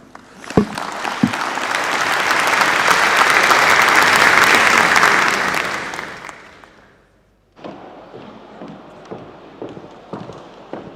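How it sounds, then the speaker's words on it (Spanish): Audience applause fills a conference hall at the close of a talk at an international trade forum in Lisbon, swelling into loud sustained clapping for several seconds, fading out, then returning as lighter scattered claps. "Uma salva de palmas, por favor"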